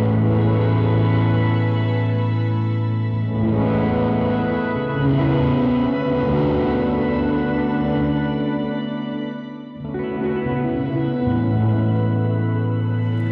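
Sustained guitar chords through a Fender shimmer reverb pedal, drenched in shimmering reverb, with bright octave-up swells ringing over the notes; chords change twice and the wash fades briefly.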